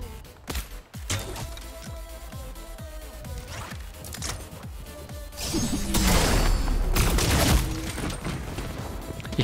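Explosions and gunfire in the video game Fortnite, with a burst of sharp blasts early on and a dense, rumbling crash of explosive noise swelling loud through the second half.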